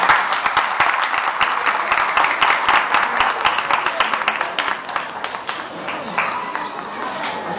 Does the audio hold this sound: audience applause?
yes